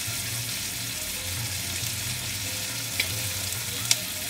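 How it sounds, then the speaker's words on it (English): Ginger garlic paste sizzles in a pan with onions fried until soft and translucent, a steady close frying hiss with faint stirring clicks and no talk. "after the onion turns translucent, we're going to add in our ginger garlic paste"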